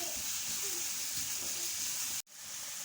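Shawarma filling fries in a hot pan with a steady, close hiss and sizzle that holds evenly, then cuts out sharply for a moment before resuming.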